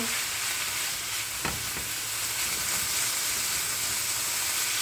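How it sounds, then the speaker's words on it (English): Shaved chicken frying fast in a skillet over high heat gives a steady, loud broadband sizzle with a faint utensil tap near the middle, and no voices. "We got our shaved chicken in our pan, so I do have this on pretty high heat."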